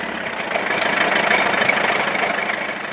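Old car engine idling in a mechanic's repair setting, a steady close rumble with a faint knocking texture and no voices.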